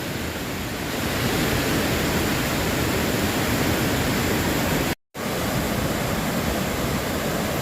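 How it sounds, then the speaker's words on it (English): Steady roar of the 94-foot waterfall at Ricketts Glen State Park, a loud, dense rush of falling water near at hand, continuous throughout apart from a brief cut of silence partway through. "So getting close to the large waterfall, the 94-foot one."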